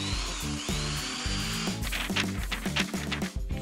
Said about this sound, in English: We'll need an electric nail drill.